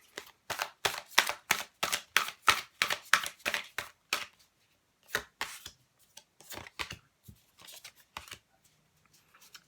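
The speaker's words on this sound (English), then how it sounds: "I'm just going to keep on shuffling" Tarot cards being shuffled by hand give a fast run of crisp, close papery slaps and riffles for about four seconds, then slower, scattered card taps and flicks.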